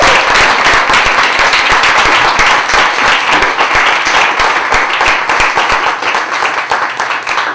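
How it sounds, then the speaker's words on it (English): An audience at a poetry reading claps loudly in a dense, sustained round of applause that lasts throughout, with no speech on top. "I hope you will give a round of applause to our poets"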